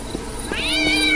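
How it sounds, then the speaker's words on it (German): A cat meows in the video game Postal 2, a single close, rising and drawn-out meow over faint background game noise. "Die Katze ist weggerannt, verdammt."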